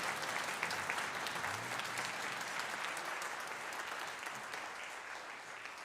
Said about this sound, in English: So one big round of applause